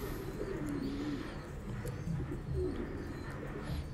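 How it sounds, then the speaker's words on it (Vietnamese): Thai Titan meat pigeons on a farm in southern Vietnam give soft, low, repeated coos against a constant background hum, fairly faint and unaccompanied by speech. "cung cấp độc quyền cái bồ câu Titan Thái siêu thịt này thôi anh em nhé"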